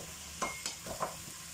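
Potatoes go into a tajine of chicken with olives, giving a quiet sizzle and frying hiss broken by a few soft stirring clatters and scrapes of the pan, with no talk.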